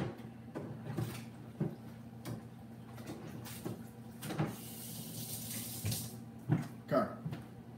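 Tap water runs into a kitchen sink while a knife is rinsed off during cooking prep, a steady close splashing hiss with a few clinks and knocks of handling.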